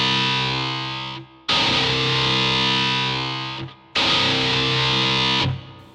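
An all-metal electric guitar played with heavy distortion. Two long, thick, buzzing chords ring out loud, each fading briefly before the next strike. No voices are heard.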